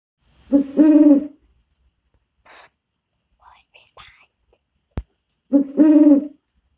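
An owl hoots at night, two clear bursts of hooting several seconds apart, fairly near and alone against a quiet backdrop, with faint rustles and a sharp click between them.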